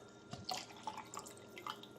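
Water, 250 ml, is poured into a burger mix, producing soft, faint drips and small splashes in a quiet kitchen.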